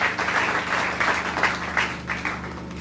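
A church congregation claps steadily, a dense wash of many hands held at an even, close level with no break.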